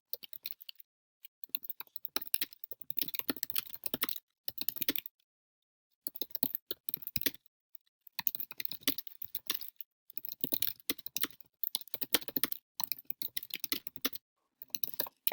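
Typing on a computer keyboard, rapid clicking keystrokes in bursts separated by short pauses, close and clear with no talk.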